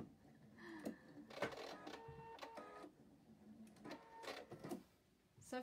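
A domestic sewing machine runs in short stitching bursts, its motor whirring in quick mechanical pulses that start and stop several times with quiet gaps between, fairly close and without talk.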